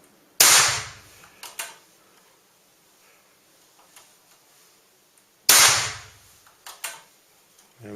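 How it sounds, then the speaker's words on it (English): Two sharp cracks from an air rifle fired with no silencer on the barrel, spaced about five seconds apart, each followed by a brief clatter of pellet impact, close and loud with quiet between. "Obviously no silencer on this barrel, so that's why we're getting that noise."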